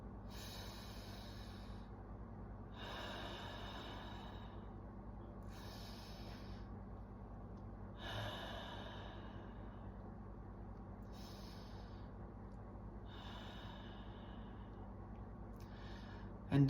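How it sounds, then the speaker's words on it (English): Slow, even breaths during guided meditation, about seven long exhalations and inhalations close to the microphone, soft airy hisses spaced a couple of seconds apart over a quiet low hum. "So let's just breathe together."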